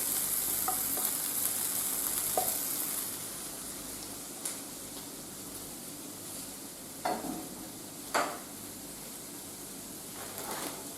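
Bacon crackles softly in a pan, a faint steady sizzle with occasional sharper pops and a few louder kitchen clatters, close and quiet, with no voices.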